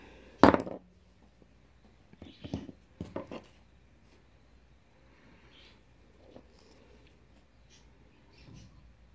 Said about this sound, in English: cut off this excess wire